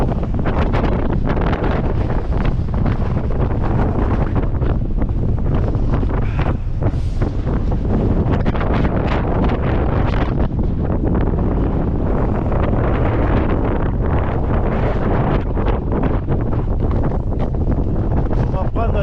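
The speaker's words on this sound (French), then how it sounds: "Vous voyez, il y a du vent à tout va là." Heavy wind in the Sainte-Baume massif buffets the microphone in a loud, constant roar, with a voice partly buried beneath it.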